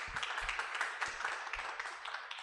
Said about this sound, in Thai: ขอเสียงปรบมือให้กับคุณ